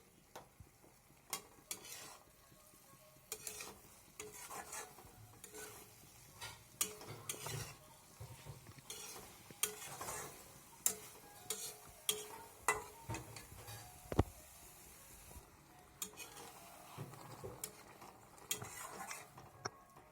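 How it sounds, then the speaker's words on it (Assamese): Fried okra stirred in a pan, with repeated clacks and scrapes of a utensil against the pan over a low sizzle, close and irregular with no talking. "ভেন্দিখিনি এড কৰাৰ পিছত ভালদৰে লৰাব লাগে যাতে ভেন্দিখিনি ভাগি নাযায়।"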